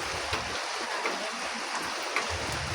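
Pieces of fried fish dropped into a sizzling curry pan, giving a steady, close hiss of bubbling oil and liquid throughout, with no talking.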